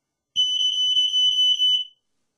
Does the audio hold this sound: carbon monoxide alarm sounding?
yes